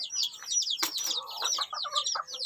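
Hen's half-grown chicks, about two to three weeks old, chirp in a dense overlapping flurry of high peeps close by, with a brief louder flutter in the middle.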